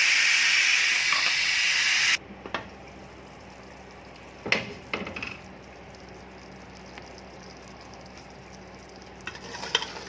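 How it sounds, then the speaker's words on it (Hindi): A loud, steady rush of steam hisses out of a pressure cooker as its whistle is lifted with the flame off, cooking mutton curry, for about two seconds, then stops abruptly, leaving faint clinks and a quiet hum. "कुकर की जो सीटी है उसको हम उठा देंगे"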